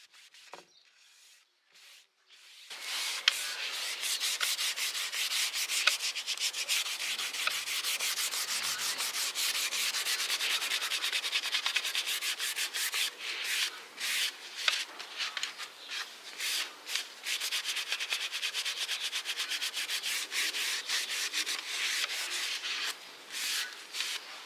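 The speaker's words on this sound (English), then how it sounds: "I come back and buff the beeswax to a nice satin sheen." Beeswax is buffed on an old oak chair, a steady, close rubbing that starts after a short quiet pause and continues in rapid strokes, with no talking.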